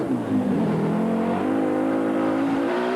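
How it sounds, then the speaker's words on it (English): A four-wheel-drive Audi Quattro rally car, in Rothmans livery, powers through sand dunes at the Dubai Rally. Its engine makes a continuous, fairly close drone that rises and dips slightly in pitch, with no talk. "the 4-wheel drive Audi making light work of the sand sucking at his wheels"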